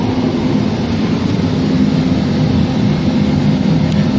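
A Polaris Magnum ATV engine runs steadily on fuel fed in by hand after its carburetor was drained, a loud continuous low droning hum with no pauses.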